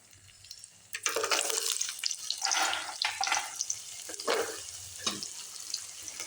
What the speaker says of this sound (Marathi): हे आता मी तळते सांडगे